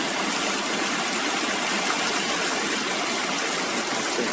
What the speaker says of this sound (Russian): К самому водопаду тоже можно пробраться, посмотреть прямо вблизи, как вода уже падает.